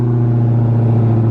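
A Dodge Demon's engine idles nearby in a steady, loud, deep rumble with a faint mechanical clatter, no voices over it.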